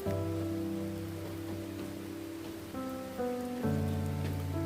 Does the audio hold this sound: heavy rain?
yes